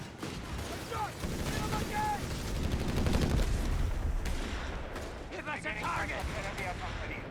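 Rapid bursts from a .30 cal machine gun in the Company of Heroes 3 video game, sustained rattling fire amid battlefield explosions, heard under a commentator talking.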